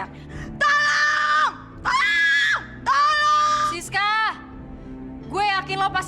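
A woman screams in a series of long, loud, drawn-out cries, four sustained shrieks separated by brief pauses, followed by a shorter wavering wail at the end.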